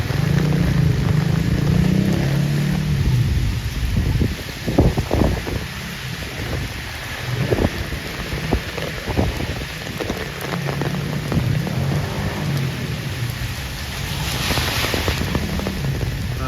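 Heavy rain pours steadily during flash flooding on a New York City street, a dense, continuous hiss on surfaces with rushing water and occasional louder splashes and thuds throughout.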